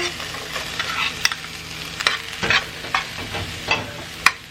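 Vermicelli frying with onions in a pan, stirred with repeated scraping strokes and knocks over a constant sizzle, close up and without any talking.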